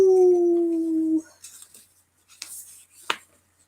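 A single long, wavering howl like a coyote's, close and clear, gliding slightly downward before breaking off, followed by a few faint clicks and rustles.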